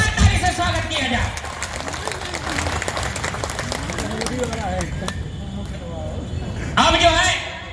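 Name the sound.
audience applause welcoming a minister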